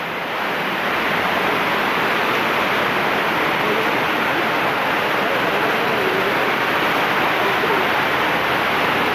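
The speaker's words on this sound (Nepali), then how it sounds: "यस्तो खोला छ ल हेर्नु खोला" The Tamakoshi river near Halesi in Dolakha rushes in a loud, steady roar of water that stays close and unbroken throughout, with no voices over it.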